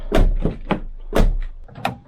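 The door of a 2019 Volkswagen e-Golf with a faulty door lock gives several close, loud clunks and latch rattles as it is worked and pulled open, with short pauses between.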